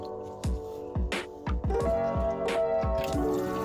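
Fluid drains from a Nissan 240 engine with a series of wet, gurgling glugs and splats, close and fairly loud, repeating unevenly over a low background hum.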